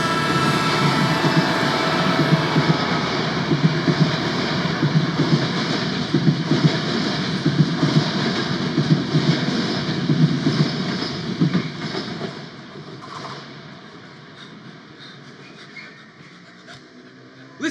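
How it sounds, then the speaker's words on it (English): A train rumbles past close by with a dense, rushing roar and rhythmic clatter, then gradually fades into the distance. "There's a train coming."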